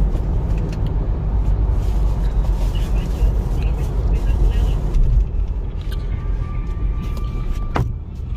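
A car fitted with an aftermarket electric throttle controller pulls away with a broad, steady engine and road roar, holding loud and close throughout before easing off near the end.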